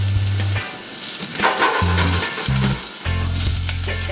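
Garlic and chopped onion browning in a pan over medium-high heat, a steady close sizzle that swells and dips in bursts, with brief stirring scrapes and no talking.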